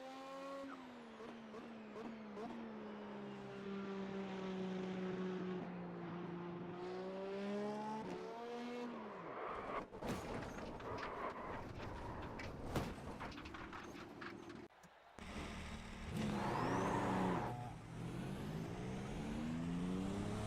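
A race car in the iRacing sim racing game, its engine loud and close, rising and falling in pitch through gear changes. There are brief tire squeals along the way, and the note drops off and then surges again near the end.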